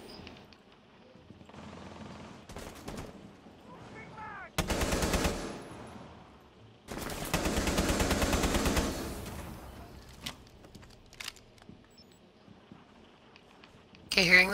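Automatic gunfire in Rainbow Six Siege, with two sustained bursts of rapid shots and scattered single cracks in between, loud and close, while a voice speaks intermittently.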